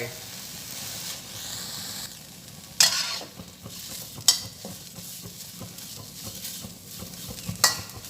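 Mulberry leaves are stirred while dry-roasting in a hot pan, a steady soft sizzle and scraping rustle with occasional sharp clinks of the utensil against the pan.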